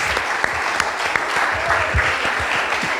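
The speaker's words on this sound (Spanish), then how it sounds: "Dale un aplauso al Señor." A church congregation claps together during a sermon, a steady crowd applause with a few sharper individual claps standing out, accompanied by scattered voices.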